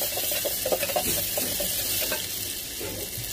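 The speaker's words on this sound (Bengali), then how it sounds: "আর এখন হান্ডি একটার মধ্যে আমি তেল ফেলাইয়া রসুন দিলাইমু, দিয়া সামান্য হলদি গুঁড়া দিলাইমু," Garlic and turmeric powder fry in oil inside a cooking pot, giving a steady, close sizzle broken by scraping stirs, with no voices over it.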